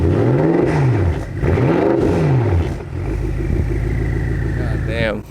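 A BMW F10 M5 with a titanium straight-pipe exhaust revs in three sharp, rising pulls, with turbo whoosh and a whistling spool at the end. Someone talks over part of it.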